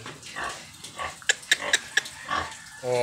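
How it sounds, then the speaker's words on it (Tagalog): Pigs of about 50 kilos each, crowded tightly into a pen, give a series of short grunts and squeals at close range, several sharp calls bunched in the middle amid snuffling and shuffling. "nasa loob niyan ang mga baboy"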